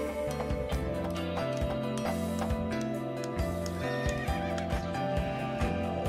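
A horse in the racing video game Rival Stars Horse Racing neighs and whinnies against steady game music, with faint hoof clip-clops mixed in.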